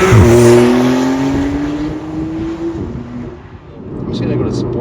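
A 2019 Porsche 911 Carrera 4S cruises on the highway, its engine note rising steadily before easing off under road and tire noise, heard from inside the cabin at fairly loud level.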